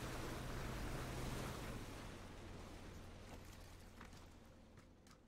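Ocean water sloshes and rushes around a swimmer in PUBG, a broad washing surge that is loudest at first and slowly fades lower.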